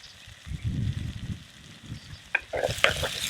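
Vegetables stirred as they fry in hot oil with tomatoes and salt in a Kathiyawadi home kitchen, a steady sizzle with scraping and clattering stirs growing louder near the end.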